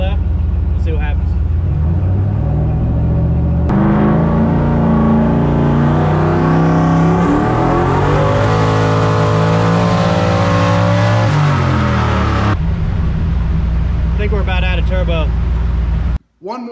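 A turbocharged LS-swapped Foxbody Mustang on a VS Racing 76mm turbo tears through a loud, sustained full-throttle drag run, climbing through gears with rising engine pitch before lifting off; brief voices are audible at the start and end.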